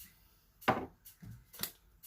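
A knife chops raw salmon into four pieces in a home kitchen: three crisp, close chops spaced about half a second apart, with quiet room tone between them.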